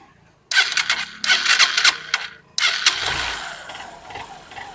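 A Honda Shine motorcycle engine, newly refitted, is self-started in three loud bursts: two brief cranking attempts, then it catches and settles into a close, steady idle.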